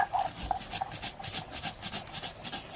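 Boiled bottle gourd leaves are ground to a fine paste, a rhythmic scraping rub repeating roughly every quarter second, close but soft.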